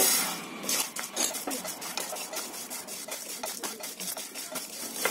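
Whole spices such as black peppercorns and turmeric root are dry-roasted over medium gas in a pan for Konkani masala, giving a steady scraping and clinking of a spoon against metal with dry rattling, close and continuous without speech.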